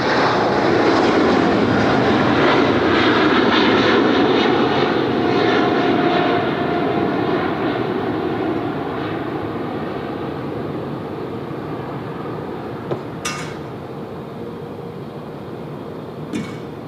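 A Jetstar jet airliner lands at Sydney Airport on runway 34 left, its loud, steady engine roar fading slowly as it rolls on, with no talk.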